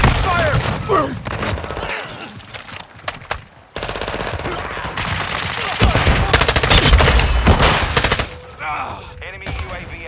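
Gunfire rattles loudly in Call of Duty multiplayer during a Kill Confirmed match: dense bursts of automatic fire with a few sharp single shots and brief pauses, while voices talk over the action.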